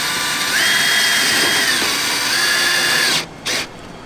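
A power drill whirs close and loud, its motor pitch rising and dipping as it drives a self-drilling screw into an RV panel, then stops with a brief final burst.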